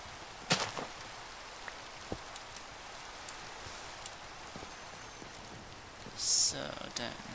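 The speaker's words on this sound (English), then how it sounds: "And it's raining." Steady rain falls in Minecraft as a soft, even hiss throughout, broken by a few faint clicks and a brief brighter splash of noise near the end, with no voice over it.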